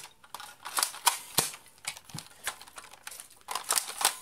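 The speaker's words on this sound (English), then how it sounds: "this is a spring-powered gun, so you have to cock this in order to shoot each time" A spring-powered Umarex L85A1 airsoft gun in two-tone red is cocked and fired, giving a series of sharp mechanical clicks and snaps in irregular succession, close and fairly quiet.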